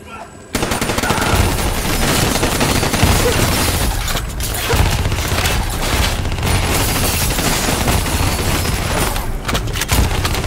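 Loud, sustained automatic gunfire from the video game Call of Duty Black Ops 3 fills the scene, with rapid machine-gun bursts and booms while players shout over the combat.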